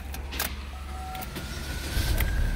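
A Chevrolet/GMC car's door locks cycling between lock and unlock, a few sharp mechanical clicks and thunks inside the car over a low idle hum.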